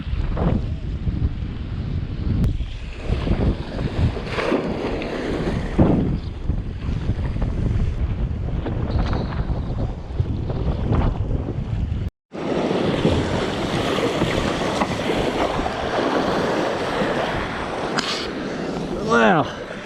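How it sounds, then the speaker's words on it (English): Wind buffets the microphone while waves wash and surf rolls along a beach on a cool English summer day, with a kayak trip out on the sea. The noise stays loud and continuous throughout, breaking off once for a moment, and voices can be heard speaking now and then. "Balmy English summer day out here at the beach."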